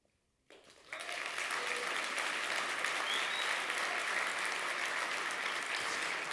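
Audience at a DevFest Nantes tech conference talk bursts into loud, sustained applause after a short quiet start, clapping to vote for a proposal, dense and steady throughout.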